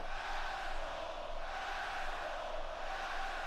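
Dense, roaring arena crowd cheering in a WWE 2K wrestling video game, a steady wash of many voices that stays loud and continuous throughout without a break.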